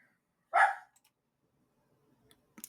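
A single sharp dog bark rings out close by, followed by near silence and a faint short sound at the end.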